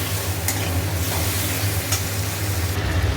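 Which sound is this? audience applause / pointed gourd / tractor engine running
pointed gourd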